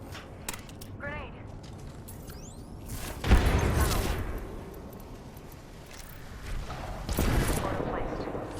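Apex Legends gunfire erupts in two loud bursts of shots and impacts between quieter stretches with mechanical clicks and faint voices.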